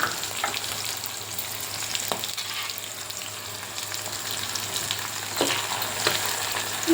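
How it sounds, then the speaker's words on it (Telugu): Coriander seeds and cumin fry in plenty of oil for a beetroot chutney, giving an even, close crackling sizzle with a few soft stirring clicks and no speech. "ఈ విధంగా వేగిన తర్వాత మనం ఇందులోకి ధనియాలు"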